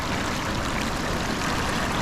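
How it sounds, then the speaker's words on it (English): Waterfalls and a stream flowing on a wild river hike, a dense continuous rush of water heard close and steady throughout. "The waterfalls."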